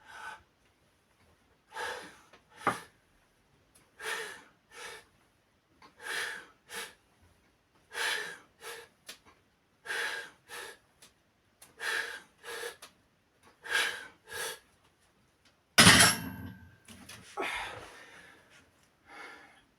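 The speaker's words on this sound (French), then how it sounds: "Et on respire." Heavy rhythmic breathing during a bench press workout, with about a dozen sharp exhales and snorts at steady intervals, close and fairly loud, ending in a louder burst of breath.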